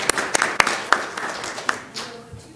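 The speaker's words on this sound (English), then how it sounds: "A big congratulations and round of applause to Annabelle." Applause from the audience at a school district governing board meeting, a loose scattering of claps with a few sharp hand strikes standing out, fading after a couple of seconds.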